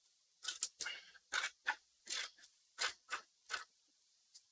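Scissors snip around the edges of paper in about nine crisp, close cuts at an uneven pace, with short pauses between them.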